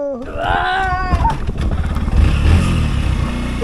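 A Yamaha FZS V3 motorcycle engine catches and starts after sitting unused for 90 days, firing up close by into a loud, steady idle with some revving.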